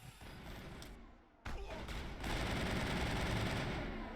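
Sustained automatic assault rifle fire in Mass Effect, a dense continuous burst of shots that starts up loud after a brief lull and keeps rattling to the end, with faint talk underneath.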